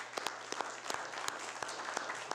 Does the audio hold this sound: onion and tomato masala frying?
no